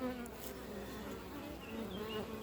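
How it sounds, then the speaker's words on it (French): Honeybees buzz steadily at a hive recently started from a split swarm, a continuous close drone with a few higher individual bees darting past. "il n'y a pas beaucoup d'abeilles"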